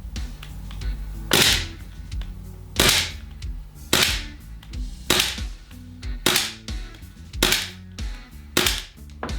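A series of sharp, loud shots from a gas-powered AMT Hardballer .45 Long Slide replica pistol, fired one after another at uneven intervals, each with a short ringing tail, no talking.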